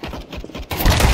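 Video game gunfire bursts out suddenly, a loud dense volley that swells near the end after a quieter stretch with low rumbling.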